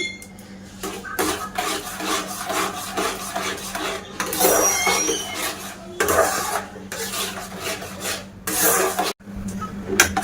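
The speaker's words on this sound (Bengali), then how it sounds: "এই উপকরণ দিয়ে একটা ডো বানিয়ে নেব।" Semolina dough tinted with food colouring is worked by hand in a bowl, giving close, loud, repeated rubbing and squishing strokes in a steady rhythm with a few brief pauses.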